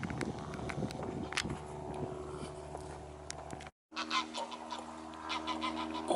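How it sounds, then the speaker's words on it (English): Canada geese honk repeatedly at a lakeside in Wales, a flock of thousands calling in overlapping bursts, moderately near and loud, with a brief drop to silence midway before the calls resume. "Canada geese."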